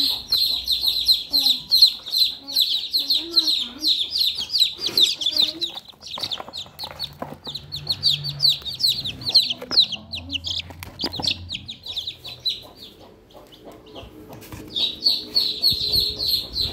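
A group of young DOC chicks, with sick ones being separated out, peep constantly in shrill rapid bursts at close range, with low clucks and a few people talking quietly underneath.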